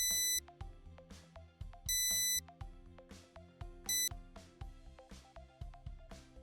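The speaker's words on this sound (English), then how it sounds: "your device will ring once again, as this has created a new alarm" Traceable Excursion-Trac data logging thermometer sounding its alarm, three bursts of loud electronic beeps repeating at regular intervals, clear and close.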